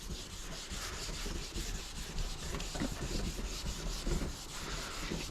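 Automotive clear coat is block sanded by hand with 800 grit sandpaper, a steady close scratchy rubbing in even back-and-forth strokes with no talking.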